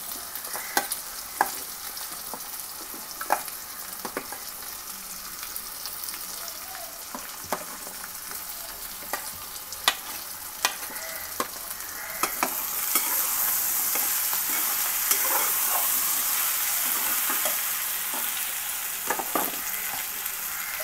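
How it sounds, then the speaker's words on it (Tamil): Potato pieces sizzle in a pan with sautéed onion and tomato, a continuous close frying hiss punctuated by regular scraping and clinking of a spoon stirring, growing louder partway through. "வெங்காயம் தக்காளி நல்லா வதங்கின பிறகு உருளைக்கிழங்கு போட்டோம்."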